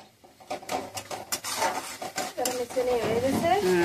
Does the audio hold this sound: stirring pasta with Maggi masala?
yes